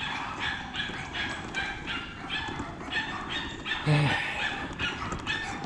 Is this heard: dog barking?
yes